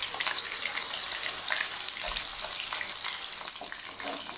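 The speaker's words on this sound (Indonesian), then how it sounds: "Okay, kita tumis sampai naik bau." A ground spice paste stir-fries in oil with fenugreek and bruised lemongrass for a sour-spicy fish stew, sizzling and hissing steadily up close, with light stirring scrapes and no talk.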